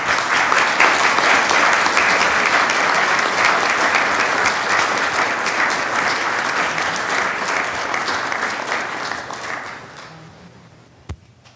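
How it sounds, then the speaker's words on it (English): Sustained applause from an audience at a city council meeting in High Point, a dense steady clapping that carries on for about ten seconds before tapering off, with no talk over it. "will we please clap for them as they come on up?"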